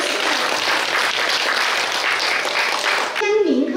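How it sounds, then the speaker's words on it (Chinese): A hall audience gives sustained, dense applause for a newly installed school principal at a handover ceremony, then a voice speaks as the clapping ends. "好，请大家掌声鼓励，"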